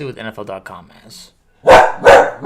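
Someone speaks, then after a brief silence a pet dog lets out two loud, sharp barks close by.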